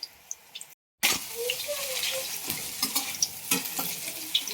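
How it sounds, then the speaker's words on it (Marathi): Green chillies fry in hot oil in a home kitchen, a steady close crackling sizzle after a brief silent gap, with scattered pops and stirring clatter. "तर भजी म्हणल्यावर मिरच्या अजून तळल्या पाहिजे"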